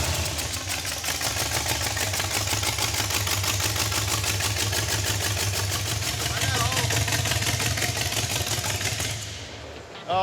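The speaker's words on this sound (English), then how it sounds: "I think it's just taking forever because it's idling so low." A car engine idling low with its valve covers off, a steady close rumble with rapid ticking that runs for about nine seconds before fading slightly, with voices talking over it.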